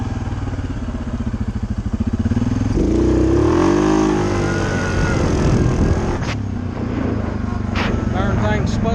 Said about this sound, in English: Let's see if we can get it to hit the rev limiter.